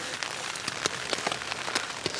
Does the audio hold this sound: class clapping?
no